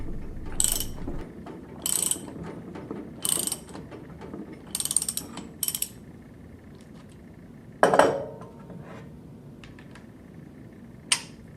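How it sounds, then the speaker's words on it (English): A torque wrench with a deep socket tightens the lock nut on the shaft of a Viking GG4195 pump, its ratchet clicking in short bursts with pauses between, followed by a couple of sharp metal clanks. "Install the lock nut and tighten to the appropriate torque setting using a deep bore socket and torque wrench."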